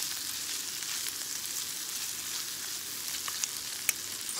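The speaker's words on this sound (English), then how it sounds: "just throw it all in the frying pan together" Constant, dense sizzling of leftover vegetables frying in a pan, loud and close, with a few faint crackles and pops.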